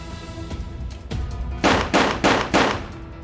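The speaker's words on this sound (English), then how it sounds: "pulled the trigger again and again in a similar arc" Four sharp gunshots ring out in quick, even succession, loud and close, preceded by softer clicks and shuffling.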